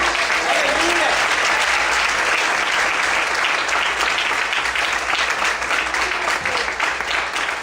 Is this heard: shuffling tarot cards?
no